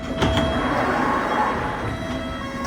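A London Underground District line train rumbles steadily through, loud and close, with a low roar, metallic wheel squeal and faint rhythmic clatter.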